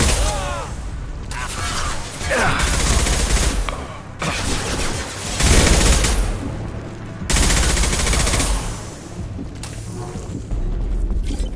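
Heavy sustained gunfire in Mass Effect 2, dense overlapping bursts of automatic weapons and impacts in several loud waves with brief lulls between them.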